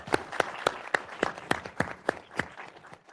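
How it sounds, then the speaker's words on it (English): A handful of people at an executive committee meeting clapping for a grant award, about ten distinct, evenly spaced claps, close and fairly quiet, with no talk over them. "How about a round of applause on that grant award?"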